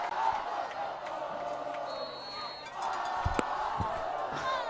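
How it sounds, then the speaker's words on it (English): Crowd cheering at a homecoming high school varsity football game, a broad steady roar of spectators from a distance, with a few sharp thuds and a commentator talking over it. "The crowd is very into it right now"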